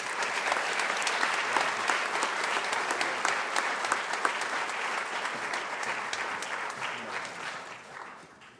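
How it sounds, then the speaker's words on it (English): An audience at a Saint Johnsbury Academy school chapel gathering claps in sustained, dense applause, full and even throughout and gradually fading away at the end. "Told you there was going to be a lot of clapping today."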